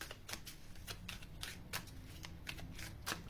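Tarot cards are shuffled and drawn in quick, crisp riffling bursts, close and soft, repeating at a steady uneven rhythm with no talking.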